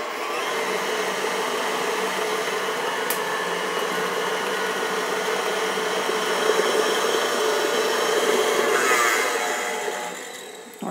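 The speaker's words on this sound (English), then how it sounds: "I'm going to beat this on the mixer until they get lemony colored" Electric mixer beating egg yolks: a steady, continuous motor whir at close range, holding an even level for about ten seconds with no talk over it.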